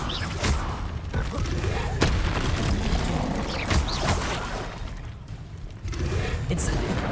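Confringo blasting spells going off during combat in Hogwarts Legacy, heard as a string of sharp, booming bursts at uneven intervals among other clashing spell and fight noises.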